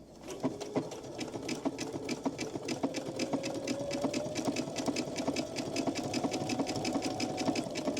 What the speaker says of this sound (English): I will try to make sure I am following that as I'm sewing